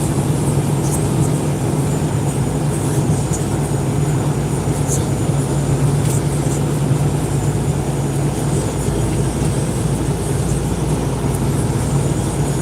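A heavy, constant rumble of a train rolls by near Daytona for the whole stretch, loud and near, with faint metallic squeaks now and then.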